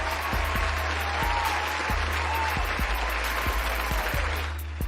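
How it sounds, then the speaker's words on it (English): Applause rolls on at an even level beneath a steady low hum and regular faint ticks, the clapping sounding canned rather than from a live room, with a slight fade near the close. "I'd like to give you a round of applause."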